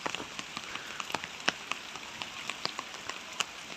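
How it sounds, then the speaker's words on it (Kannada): Monsoon rain with wind falls on a surface nearby in Karnataka, a soft hiss broken by irregular drips and louder droplet taps. "ಅದರಲ್ಲಿ ಮುಂಗಾರು ಮಳೆ"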